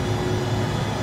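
BAe 146-300 jet engines at climb power in the X-Plane 11 flight simulator, heard as a steady, even roar with a faint whine, constant and unbroken throughout.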